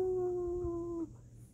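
A dog lets out one drawn-out, steady whining howl that fades out after about a second, heard close up in a quiet room.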